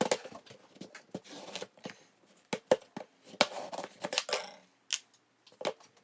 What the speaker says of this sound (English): We're just gonna cut them like directly in half. And it might take me a while because these are like hard to cut through